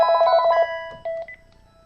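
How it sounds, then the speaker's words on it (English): A phone rings during a recorded chemistry lecture, a rapid trilling electronic ring followed by a brief second burst and a fading tone, moderately loud with no talk over it. "Sorry, that's my phone ringing."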